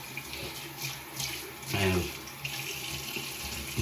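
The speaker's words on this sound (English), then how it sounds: "I always want to splash some cold water on your face." Cold tap water running steadily into a sink for splashing on the face, a continuous close hiss with a brief louder surge of splashing midway.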